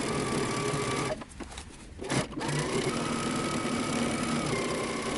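Sewing machine with a regular presser foot stitching a pants crotch seam at a 5/8 inch seam allowance, a steady close whirring run that briefly pauses and falters before resuming at an even pace.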